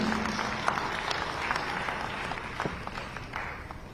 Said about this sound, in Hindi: तालियों के साथ स्वागत करें माननीय मुख्यमंत्री जी